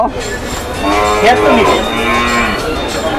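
Cattle lowing at Gabtoli cattle market, a clear, drawn-out moo close by that rises and falls over several seconds, with crowd noise and voices around it.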